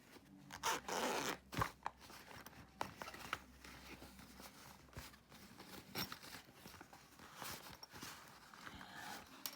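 A small fabric pouch holding a Bauer Tarot deck is unzipped close by with a few quick zipper rasps, followed by soft rustling and handling noises.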